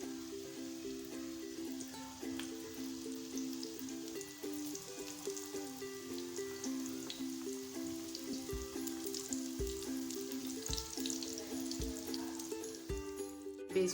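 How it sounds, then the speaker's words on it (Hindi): Aloo chicken samosas fry in oil on low heat with a soft, steady sizzle and crackle throughout, under a faint tonal background hum. "हल्की आंच में इसको फ्राई करना है आपने।"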